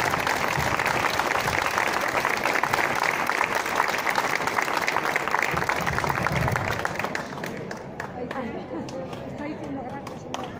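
Applause from an outdoor crowd at a village fair celebration in Spain, dense and continuous clapping with chatter mixed in, easing somewhat toward the end.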